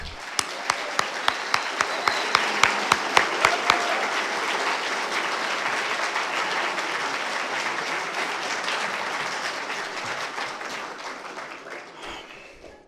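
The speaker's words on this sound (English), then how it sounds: "please give a huge round of applause for the indomitable Warren Balogh" An audience applauds a speaker at a gathering, starting with sharp, distinct claps that swell into steady, dense applause from a sizeable crowd, fading slightly toward the end.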